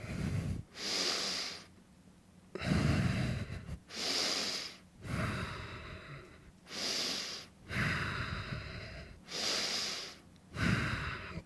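Heavy rhythmic breathing during a held Superman exercise pose: close, audible breaths, around nine of them, alternating hissing inhales and exhales at a slow, even pace with no talk in between.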